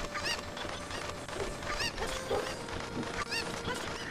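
A cucco chicken in the video game The Legend of Zelda: Ocarina of Time, in Kakariko Village, clucks and squawks in several sharp, repeated calls over a noisy game background, close and fairly loud, with no talking.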